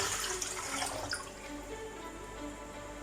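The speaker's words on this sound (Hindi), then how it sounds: "ये दूसरा जग हमने पानी में का डाल दिया।" A second jug of water poured into a pan of sugar for halwa syrup, a continuous close splashing and trickling stream, loud at first and settling into a steady pour, with no voices.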